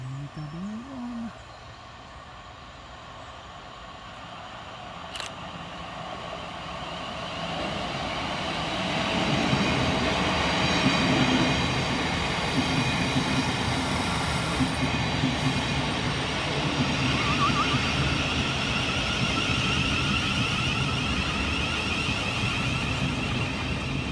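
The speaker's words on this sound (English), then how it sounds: "Arriving next into the station is 707001 and 707013 with the 1518 Southeastern service from London Charing Cross through to Hayes." A pair of Southeastern Class 707 electric units runs into a station, a faint start building to a loud, sustained rumble of wheels on rail with squeals and clicks as the train draws in close.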